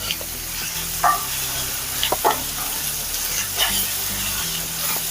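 Turmeric being stirred into a fish curry base frying in a pan: an oily sizzle runs throughout, broken by a few sharp clinks and scrapes of the spoon against the vessel.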